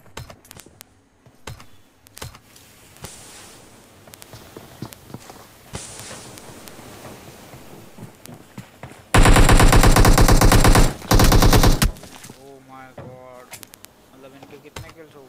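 Rapid automatic gunfire in a battle royale game, covering fire from a tower, bursts loudly for about three seconds mid-clip after quieter game sounds and scattered shots.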